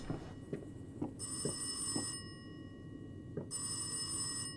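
A bright electronic telephone bell rings in two bursts with a pause between in the video game Rise of Insanity, over a hum with a few soft taps.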